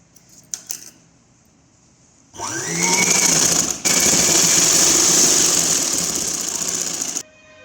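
An electric sewing machine stitches an umbrella long frock. After a brief click, it whirs up into a loud, continuous high-pitched run of rapid stitching, stops for a moment, then carries on steadily before halting.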